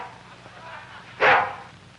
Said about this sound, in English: Get that dog out of this courtroom.